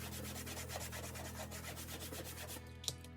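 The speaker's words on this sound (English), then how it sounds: "So all you do is just scrub, apply a little elbow grease, just get all of the leftover material off." Leftover fabric is scrubbed off a Cricut cutting mat, a faint steady rubbing and scraping with rhythmic back-and-forth strokes and a small tap near the end.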